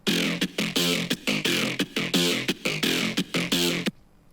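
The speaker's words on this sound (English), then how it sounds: "So it's actually made up of two different serum bass patches." Mouthy drum and bass melody from a layered Serum synth bass patch, a run of short vowel-like bass stabs in a steady rhythm lasting nearly four seconds, then stopping into near silence.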